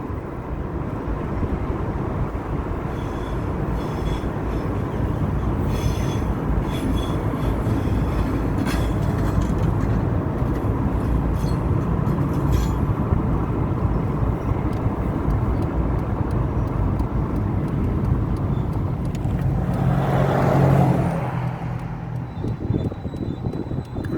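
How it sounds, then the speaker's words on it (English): A train pulling into Mulgrave station, New South Wales, rumbles steadily nearby, a heavy continuous roar of engine and wheels that swells briefly near the end, with no voices. "We're following the train into the station."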